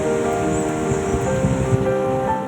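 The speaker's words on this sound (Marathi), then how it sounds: "मी सध्या दाभोसा धबधबा इथे आहे" Dabhosa waterfall in Jawhar, Palghar, cascading in full monsoon flow amid dense forest: a steady, loud broadband roar of falling water with gusty wind noise, continuous throughout with no speech.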